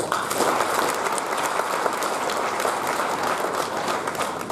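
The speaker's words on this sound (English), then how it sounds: "all of you all deserve a very good round of applause for that" An audience at an MBA programme inauguration gives a sustained, dense round of applause, loud and even throughout with no talk over it.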